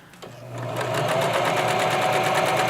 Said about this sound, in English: sewing just inside the serging, keeping the folded edge by the silver edge